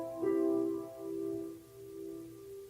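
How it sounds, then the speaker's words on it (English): A minor chord sounds once and sustains, its notes ringing softly and close up as they slowly fade, with no voices over it. "And a minor chord is..."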